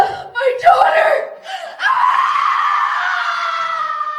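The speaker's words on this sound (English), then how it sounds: "My mother's screams echoed off the concrete as my father bolted for the door." A woman screams in a dramatic scene, the loud, strained cry echoing off concrete walls after a stabbing, with a short gasping break before a sustained, wavering wail that carries to the end.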